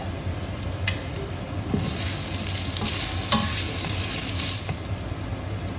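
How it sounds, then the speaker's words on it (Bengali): Ginger and green chilli frying in a pan over already-fried onion and garlic for a Bengali-style venison stew: a steady, close sizzle with stirring scrapes running throughout, no talk. "এবার এতে আদা আর কাঁচা লঙ্কা দিয়ে দিলাম।"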